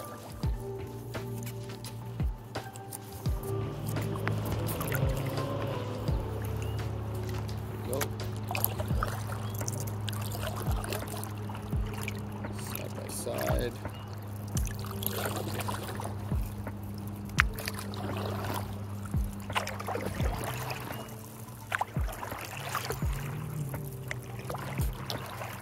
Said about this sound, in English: So now we are paddling around